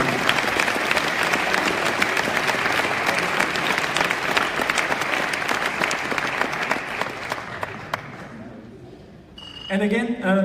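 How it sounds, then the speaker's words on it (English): A large hackathon audience at the 2017 Stuttgart final pitches bursts into dense, sustained applause with scattered sharp claps. It thins out near the end and a voice speaks over the room. "please applaud yourself"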